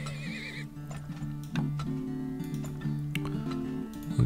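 In the video game Turmoil, a horse whinnies at the start and hooves clip-clop steadily on top of a continuous droning game soundtrack.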